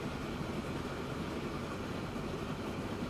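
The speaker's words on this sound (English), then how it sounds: "And there's another oil train coming down with crude." A crude oil freight train rolls past in Transport Fever 2, a steady, faint rumbling drone with no distinct clacks, holding an even level throughout with no voices.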